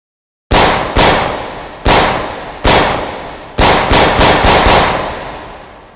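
Gunshots at a virtual shooting range in the VR game H3VR, fired in two bursts: four sharp, loud reports with short decays, then a tight rapid cluster of about five more, with no talking.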